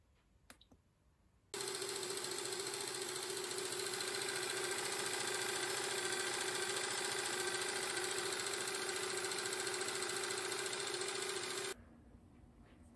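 An Alfa Romeo 105 engine oil pump running on a test rig, a steady loud mechanical whir with constant pitch that starts abruptly after a brief quiet moment and stops just as suddenly near the end.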